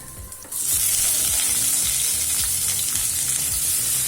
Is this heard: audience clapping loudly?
no